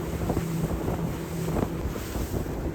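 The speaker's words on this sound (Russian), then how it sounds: "Отплываем от людных берегов и плывем в сторону острова, ловя кожей солнечные блики и капельки воды." A boat cruising across Lake Alakol toward an island, with steady wind buffeting the microphone and a continuous rush of water and spray against the hull, fairly loud and unbroken throughout, with no talking.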